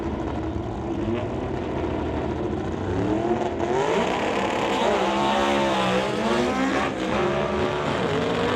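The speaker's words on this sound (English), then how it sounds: "Things not sounding terribly healthy for the Austin down the racetrack" A struggling Austin race car engine roars loud and close down a dragstrip racetrack at a fire-and-thunder motorsport event, a continuous rough drone with rising and falling pitch as it pulls away.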